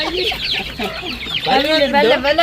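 Loud, close chicken clucking from a flock of hens, busy overlapping calls rising and falling continuously with no pauses.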